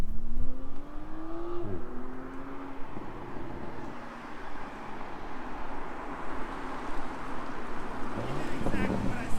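A car engine revs and whines as it spins through donuts, rising and falling in pitch across several seconds, heard at a distance amid wind buffeting the microphone and occasional voices nearby.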